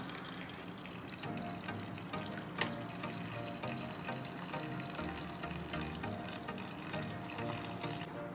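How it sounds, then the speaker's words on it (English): Water poured into a rice cooker pot while cooking Chettinad chicken biryani: a continuous gushing, tap-like stream filling the pot, steady and close, with a brief knock partway through. "First of all, we need to pour water."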